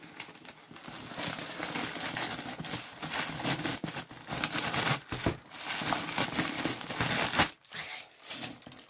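Plastic packaging crinkles and rustles as it is pulled out of a Loungefly Dumbo backpack, an irregular run of close crackles and scrunches with a few sharper pops, no voices.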